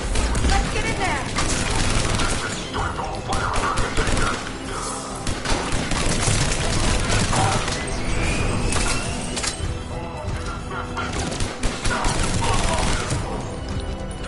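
Dense, continuous gunfire fills a checkpoint battle in Mass Effect 3, with thuds, booms and clattering mechanisms under a loud, busy mix of battle noise and voices.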